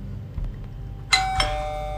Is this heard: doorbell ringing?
yes